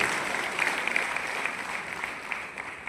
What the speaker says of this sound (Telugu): సార్ గారికి మహిళలందరి తరఫున ఒకసారి చప్పట్లతో స్వాగతం తెలియజేస్తున్నాం